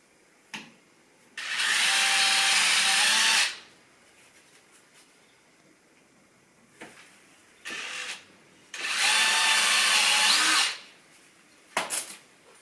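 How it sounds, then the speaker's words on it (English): Cordless drill driving screws through the sides of a wooden batten while boxing in radiator pipes, two loud sustained whirring bursts of about two seconds each, with shorter spin-ups and clicks between, close with no talk. "So this piece I'm just having to screw in through the sides"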